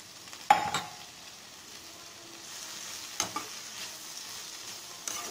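Chopped cabbage drops into a pan of fried tomatoes for a Tamil kootu, starting with a sharp clatter, then a soft steady sizzle broken by a few stirring scrapes and taps against the pan.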